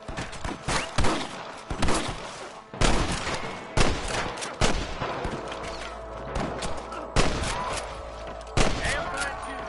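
Video game shootout in a Western-style firefight: rapid, loud volleys of gunshots in irregular bursts, close and punchy, with some speech mixed in.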